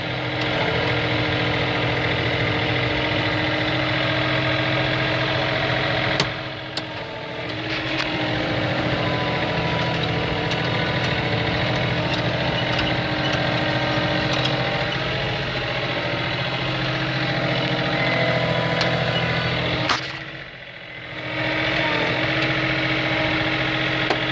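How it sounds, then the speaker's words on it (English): A John Deere 3520 tractor fitted with a 59 snowblower runs at a steady, loud drone throughout, with two brief dips in level partway through and no talking. "this is a 59 snowblower"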